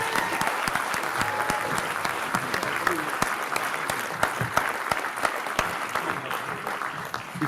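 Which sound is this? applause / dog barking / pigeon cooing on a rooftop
applause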